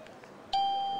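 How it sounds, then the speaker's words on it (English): A Toucan wireless doorbell chime sounds at a CES 2020 trade show booth, a single sustained electronic tone starting midway and ringing on, preceded by faint background chatter. "On the doorbell, we include a wireless chime mm-hmm. along with it. And this chime, you can select 6 different sounds."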